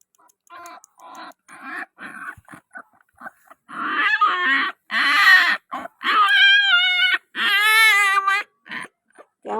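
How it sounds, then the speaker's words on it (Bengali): Dodo the cat gives a run of meows. It starts with short, soft, choppy calls, then builds to several long, loud, wavering cries close to the microphone. "ক্যাও ম্যাও ক্যাও ম্যাও করলে হবে না"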